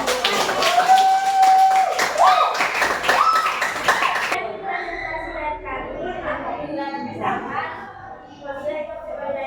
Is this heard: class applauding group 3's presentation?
yes